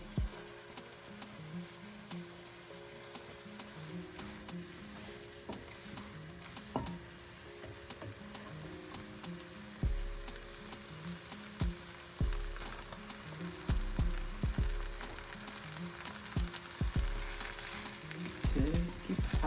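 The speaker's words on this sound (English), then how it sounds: "we'll now add it to the stir fry and cook together" Coconut fried rice sizzles steadily in a hot pan as it is stir-fried, with a continuous crackling hiss broken by repeated scraping and tossing strokes of a utensil, close and alone with no talking.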